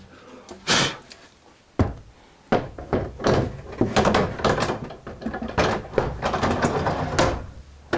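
Kitchen cabinet drawers sliding and knocking during installation, a string of sharp wooden thunks and rolling slides in irregular bursts, close and loud.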